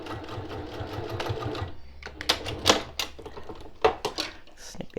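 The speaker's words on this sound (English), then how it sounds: "sew a 1 centimetre seam allowance" A sewing machine stitches a one-centimetre seam on a fabric pouch, running in a steady whirring burst, then stopping for several clicks and taps of handling.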